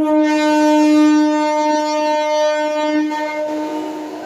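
Sustained harmonic horn blast from the first AC local train on the Sealdah–Ranaghat line, loud and steady for several seconds before easing off, heard alone without speech.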